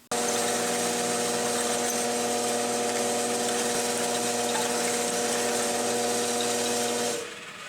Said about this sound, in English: I'm going to re-drill that and put a helicoil in